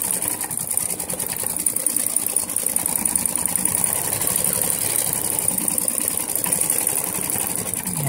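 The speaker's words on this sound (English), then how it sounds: "The machine is stitching around the outside of the applique again." A Brother XV8500D embroidery sewing machine stitches around the edge of a fabric applique, its steady fast needle chatter and motor whir running continuously up close with no voices.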